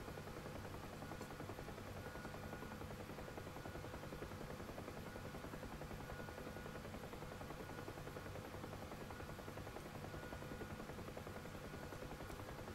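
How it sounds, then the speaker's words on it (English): A KA-50 attack helicopter in a VR flight game: its engine and rotors hold a steady, continuous droning buzz throughout, fairly quiet and unbroken, with no talk over it. "That is a big fleet of helicopters."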